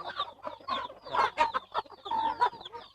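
Chickens clucking in a run of short, broken calls, fairly close, with several birds overlapping and no talk.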